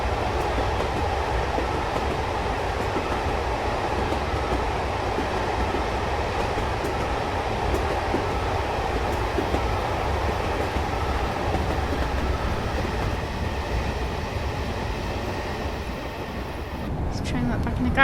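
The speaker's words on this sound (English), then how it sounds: "let's get a nice shot of the train going by" A train in the Train Sim World 2021 game rumbles past steadily and continuously, a broad rolling roar with faint rail clatter, close by and loud.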